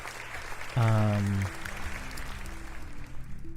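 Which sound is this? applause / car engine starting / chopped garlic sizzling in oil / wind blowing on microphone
applause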